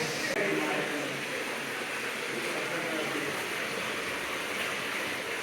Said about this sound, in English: An 8-foot waterfall that goes back down to the lower passage goes down right over there.